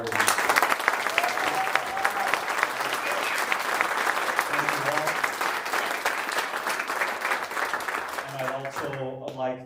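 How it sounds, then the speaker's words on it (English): An audience in a concert hall applauds warmly for a performance, with loud, sustained clapping and a few cheers, before a voice starts speaking near the end. "If we can get another round of applause for the 4 of you."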